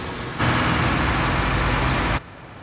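Tractor engine in Farming Simulator 19: a steady, loud broadband rumble and hiss that starts abruptly, holds for nearly two seconds, then cuts back to a quieter running drone.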